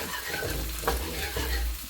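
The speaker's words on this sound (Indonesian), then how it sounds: "Jadi ini gorengnya minyaknya harus banyak ini. Minyaknya harus menutupi tausinya." Fermented black beans (tausi) fry in a generous pool of oil over low heat, a continuous crackling sizzle with occasional stirring scrapes, close and steady.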